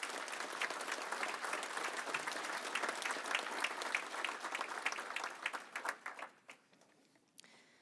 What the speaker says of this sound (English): Thank you for a round of applause.